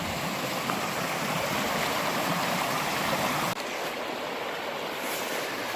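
Creek water rushes steadily through wilderness scouting ground for deer and bear hunting, a loud, continuous broadband flow that carries unbroken from start to finish with no voices.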